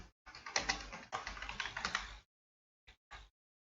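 Rapid clattering keystrokes on a computer keyboard, two dense bursts of typing followed by a pause and a couple of isolated key presses, close and clear with no talking.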